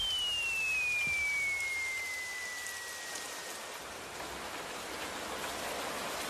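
Steady rain pouring down in a Doraemon cartoon scene, a dense even hiss throughout, with a brief descending whistle-like tone near the start.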